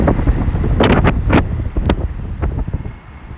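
Strong wind buffets the microphone on a rainy, stormy London street, with loud rumbling gusts and a few sharp bursts of noise.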